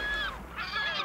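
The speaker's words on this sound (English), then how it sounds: "the birds of the sea gather in shrieking assembly and dive frantically beneath the surface" Gray gulls shrieking at sea while scavenging an oceanic sunfish carcass, two loud, harsh calls close by, separated by a brief pause.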